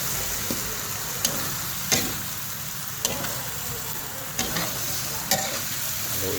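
Adobo, cooked down until nearly dry and slightly spicy, frying in a pan as it is stirred. A constant sizzle runs underneath sharp spatula clacks that come every second or so.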